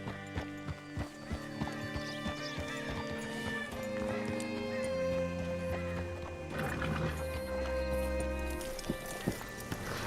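A horse in Red Dead Redemption 2 clip-clops along a street in a steady, close hoof rhythm, then whinnies and snorts loudly toward the end while low musical tones play underneath.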